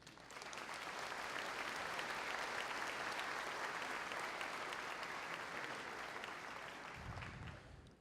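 Sustained audience applause fills a Ferris State University commencement ceremony, a dense wash of many hands clapping steadily for about eight seconds at moderate distance before tapering.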